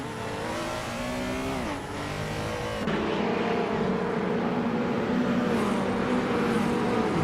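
Race car engines roar continuously in a video game race, loud and close, with one engine's pitch sweeping down then steadying at a higher sustained drone as another car joins.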